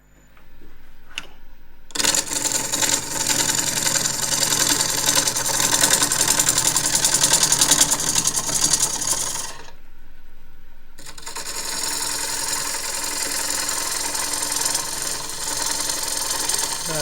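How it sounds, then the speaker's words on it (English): A wood lathe spins a wide-rimmed bowl while the gouge makes a shear cut, giving a steady, loud whirring drone that stops briefly mid-way and then resumes as the cut continues. "Just using just to the right of the nose of the tool, bevel's rubbing, so it's a shear cut."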